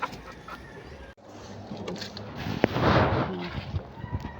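Chickens cluck during feeding, a few soft calls over steady outdoor background noise, with a sharper burst of clucking toward the end.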